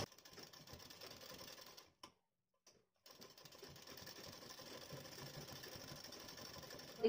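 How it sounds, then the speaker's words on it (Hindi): Sewing machine stitching a decorative border on a blouse, a quiet, fast, even mechanical whirr that runs steadily, stops briefly for about a second, then resumes. "अब देखिए इसके ऊपर एक सिलाई और हम लगा देंगे।"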